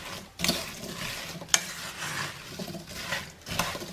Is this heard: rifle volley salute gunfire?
no